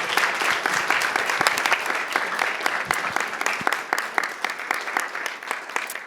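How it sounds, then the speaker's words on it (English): A room full of audience members at a live performance and interview event applauds with sustained, fairly loud clapping, individual claps standing out within the steady wash of sound. "Let's have a round of applause for everyone in the room."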